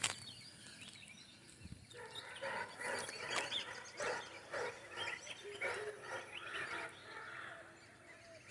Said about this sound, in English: musical sounds of birds, small birds, dogs